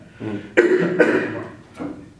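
Two or three harsh coughs, close and loud, one after another, with a short pause before the last.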